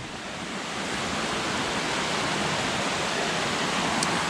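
Laurel Creek Falls roars as a loud, steady rush of water over its rocky drops into a swimming hole, sounding close and filling the whole clip with no voices.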